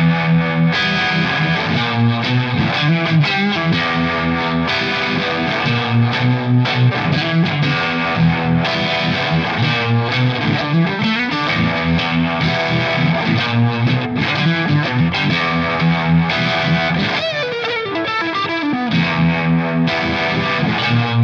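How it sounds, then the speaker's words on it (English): Electric guitar through a Strymon Flint pedal with reverb and harmonic tremolo, driven by fuzz, plays a loud, thick, sustained riff with a steady pulsing wobble throughout, no voices. "let's just see what happens when we throw some of that reverb on with this harmonic tremolo and the fuzz"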